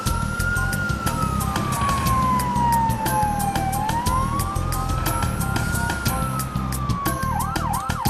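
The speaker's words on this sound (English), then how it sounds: "one after another, tiny fire engines arrive and put out the forest fire." Miniature fire engine sirens on a model railway layout wail, rising and falling steadily, with a brief rapid yelp near the end, over a constant low rumble of engines and bustle.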